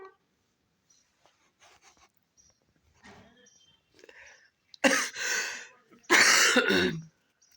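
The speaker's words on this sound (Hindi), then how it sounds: "गला ख़राब हो गया, खांसी भी हो गई है" Two loud, harsh coughs from a sore throat close by, preceded by faint rustling and soft indistinct sounds.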